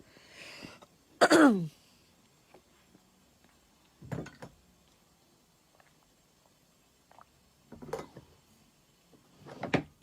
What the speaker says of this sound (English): I apologize for clearing my throat so often